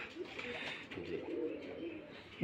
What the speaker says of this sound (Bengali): এটা একটা পুরাতন জাতের কবুতর